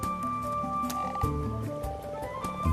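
Common frogs croaking in spring at their shallow spawning water, a dense chorus of rapid overlapping grunting croaks that keeps up steadily from start to finish.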